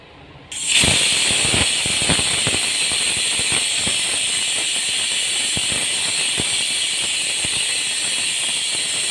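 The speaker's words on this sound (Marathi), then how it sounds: "या ठिकाणी एक शिट्टी झालेली आहे" A pressure cooker cooking dal on low flame lets out a sudden loud, sustained steam whistle and hiss that continues steadily, with faint crackles underneath and no talk.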